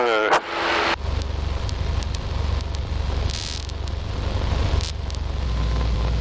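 Light aircraft engine during a go-around flown low over the runway, a steady close drone that holds evenly for several seconds after a brief voice at the start.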